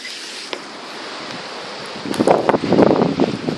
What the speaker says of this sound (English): Yep, there's a blizzard.